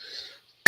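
A single sharp, loud cough bursts out at the very end, after a quiet stretch of faint breathy noise.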